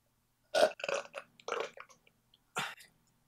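A long, croaking burp rolls out in several pulses, followed after a short pause by one more brief burp, close up in a quiet room.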